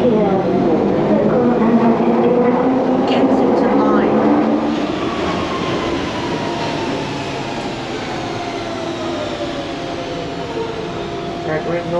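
A Kensington line train at a suburban station gives a loud, steady rumble with drawn-out squealing tones that ease slightly partway through.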